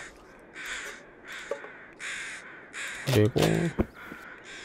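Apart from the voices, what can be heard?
crows cawing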